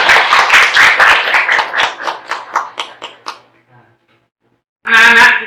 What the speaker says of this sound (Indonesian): Untuk teman-teman yang sudah maju, mari kita kasih tepuk tangan bersama